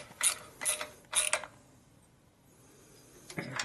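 A tool ratchets while a hose clamp is tightened on a 1989 Harley-Davidson FXR, three quick close bursts of clicking followed by a pause and a fainter final click.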